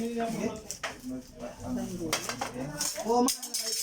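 Plates and dishes clink at a family 65th birthday celebration, with scattered ceramic and cutlery knocks under close conversation.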